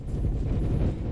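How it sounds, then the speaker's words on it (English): Bombing in a Roblox game: a steady, heavy low rumble of explosions fills the whole moment, loud and continuous with no clear separate blasts and no voices over it. "they're bombing this place"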